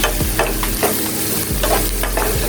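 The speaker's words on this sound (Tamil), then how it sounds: "ஸோ நல்லா ஆயில் ஹீட் ஆனோடனே தாளிக்கிறதுக்கு கடுகு, உளுத்தம்பருப்பு. ஸோ நல்லா பொரிஞ்சு வருது." Mustard seeds and urad dal splutter and crackle in hot oil, with rapid irregular pops and a steady sizzle and no talking.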